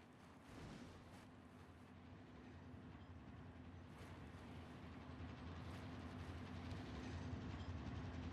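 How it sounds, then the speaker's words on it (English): A train rumbles past in Call of Duty: Modern Warfare, a steady, low, broad roar of rail cars that builds slightly and sustains throughout without any talk. "Waiting for the train to pass."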